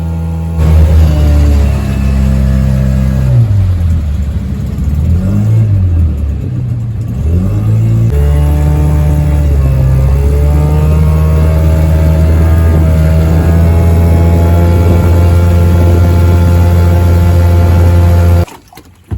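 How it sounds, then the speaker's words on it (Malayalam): Loud, steady speedboat engine drone at a fish farm, with a strong low hum and slight pitch shifts, running close by, cutting off at the end. "സ്പീഡ് ബോട്ട് ഓടിച്ച സുധീറിനോട്"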